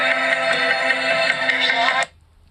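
Music or audio plays loudly and clearly from the stereo speakers of an iPhone 8 Plus, a dense steady sound that cuts off abruptly near the end, leaving near silence.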